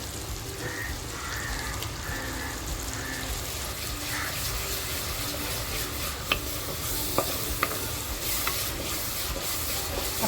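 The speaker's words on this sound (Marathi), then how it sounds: "जी लसूण टेचून घेतली आहे ती लसूण टाकते आहे" Chopped garlic frying in oil in a hot clay pot, a steady close sizzle with occasional sharp clicks and taps of a utensil, no voices.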